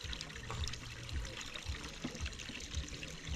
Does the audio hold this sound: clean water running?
yes